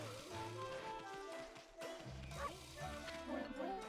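A dog in the Okami video game gives several short, bright barks and yips against game music and effects, with a thudding hit partway through.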